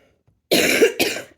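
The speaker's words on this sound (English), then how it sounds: "Excuse my cough." A single person coughs twice in quick succession, close and fairly loud, after a moment of near silence.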